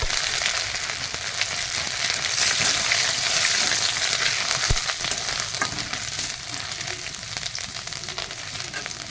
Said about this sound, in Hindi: तेल गरम हो गला जीरा पकेगा